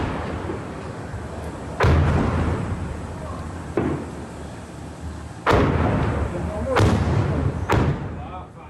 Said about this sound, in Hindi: बाराम और किसुफिम में जोरदार विस्फोट हुआ।